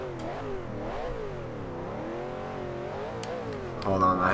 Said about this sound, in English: Let's go on over here just so we can hear that engine.